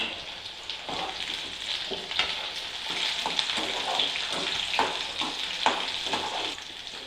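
Dried red chillies frying in a pan for garlic chutney, a steady close sizzle with soft crackles and occasional stirring scrapes throughout.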